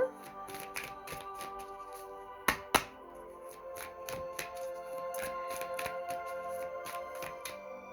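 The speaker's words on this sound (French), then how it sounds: "Alors je vais tirer quelques cartes avec l'oracle de la triade." Oracle cards being shuffled and drawn by hand: soft, crisp flicks and slides of card stock at close range, with two sharper slaps midway, quiet and without any voice.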